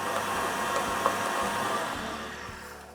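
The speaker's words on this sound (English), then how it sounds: "and whisk it for a minute." An electric mixer whisks Italian meringue buttercream with dark chocolate ganache, a steady close motor whir that holds for several seconds, then eases slightly at the end.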